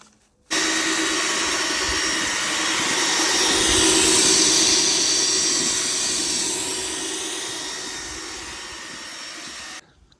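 An electric paddle mixer churns Flowpoint grout in a tub with a loud, steady whirring drone. It starts abruptly, swells slightly in the middle, eases off and then cuts out, with no voices over it.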